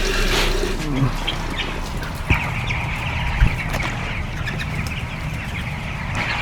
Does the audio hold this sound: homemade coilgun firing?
no